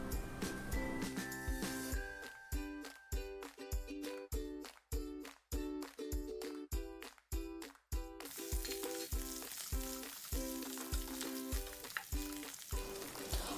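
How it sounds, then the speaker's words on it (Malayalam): Chopped garlic, onion and tuna sizzle in olive oil in a pan, a steady close frying hiss broken by a regular series of sharp stirring clacks partway through. "അതിലേക്ക് നമ്മൾ ചെറുതായിട്ട് അരിഞ്ഞു വെച്ചിരിക്കുന്ന വെളുത്തുള്ളിയും സവാളയും ചേർത്ത് ഒന്ന് വഴറ്റുക."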